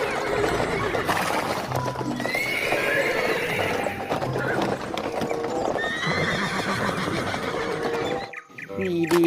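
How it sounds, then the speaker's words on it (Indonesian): A toy horse lets out a loud whinny over a steady clip-clop of hooves, repeating across the stretch before a brief dip near the end, with a voice chiming in lightly. "Widih, ini ternyata kuda teman-teman."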